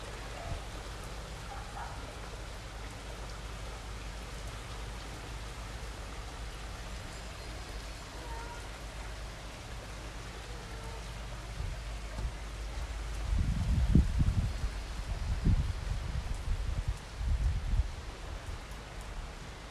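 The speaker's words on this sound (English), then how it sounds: "It's raining so hard" Heavy rain falling outdoors in Sun Valley, Idaho, a steady broadband hiss throughout, with louder low rumbling and gusty bursts in the second half.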